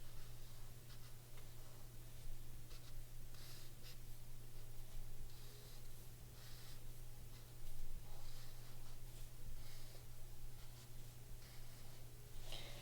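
Pen or marker writing out a word on a paper craft sheet, continuous soft close scratching and ticking strokes over a steady background hum, with no talking.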